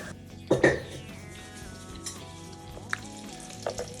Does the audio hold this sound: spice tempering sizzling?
yes